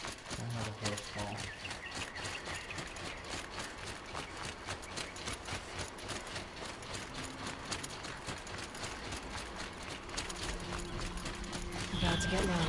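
Rapid hoofbeats of a galloping horse in the video game Horizon Zero Dawn pound steadily throughout, loud and dense, with game sound effects layered over the rhythm and rising slightly toward the end.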